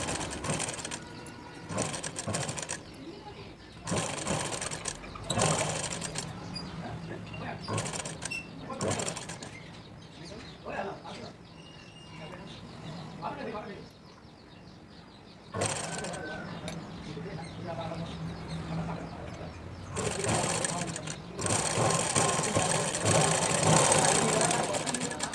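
Sewing machine stitching a frilled frock in bursts of rapid mechanical whirring, starting and stopping repeatedly between quieter pauses, close and fairly loud, with faint talk in the gaps.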